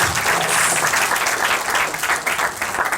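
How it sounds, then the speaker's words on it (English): An audience at a college colloquium gives steady, dense applause that fills the room at full strength for the whole stretch, with no voices standing out. "An applause for that."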